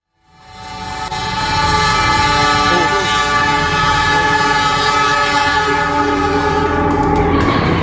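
A train rolls loudly past a railway level crossing in Cimindi, Cimahi, West Java, its rumble and rail noise rising within the first second and staying steady and close throughout, with a sustained horn-like tone running through it.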